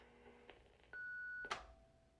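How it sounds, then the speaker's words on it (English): An answering machine sounds its tones: a short electronic beep, then a sustained pure tone of about half a second ending in a brief noisy click, heard alone in a quiet room. "Leave a message after the beep."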